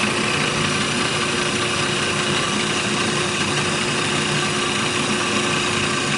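The motor of a Drum Dokter B-500 drum sander under repair runs as a loud, steady, close mechanical hum with a constant buzzing drone and no pauses.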